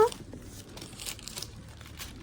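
Sheets of aluminium foil are handled close up for a foil-wrapped lamb dish, giving soft, irregular crinkles and rustles at low volume.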